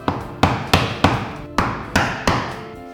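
A hand hammer or mallet strikes wood while a dado rail is shaped by hand, seven loud, close blows with woody thuds and short ringing decays, spaced irregularly about every half second.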